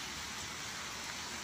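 Rain falls in a steady, even hiss of broadband noise, constant and fairly soft throughout, with no voices or other distinct sounds.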